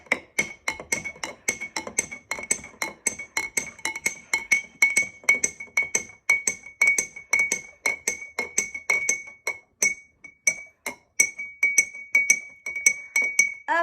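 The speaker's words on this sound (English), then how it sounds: "now we are gonna stir it until the paint is dissolved" A spoon stirring paint into warm water in a glass jar, giving steady repeated bright clinks against the glass, about two per second for the whole stretch, with no talk.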